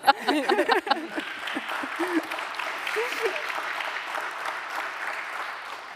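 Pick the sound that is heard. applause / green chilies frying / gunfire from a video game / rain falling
applause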